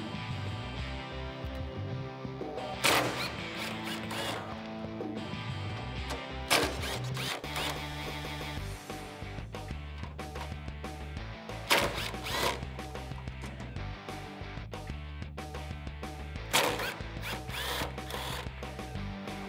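A 1/4-inch cordless impact wrench spins off the 10 mm nuts inside the trunk lid of a 2005-2009 Mustang. It fires in several sharp, hammering bursts between quieter whirring and mechanical clicks, close up and with no talk.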